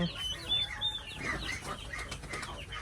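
Hens, a cross of layers and native chickens, scuffle over a nesting box, with flurries of wing-flapping and short clucks and chirps at close range, fairly quiet and uneven.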